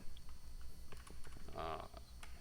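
Close keystrokes on a computer keyboard patter in quick, uneven bursts during a calculus lecture, with a brief louder cluster near the middle.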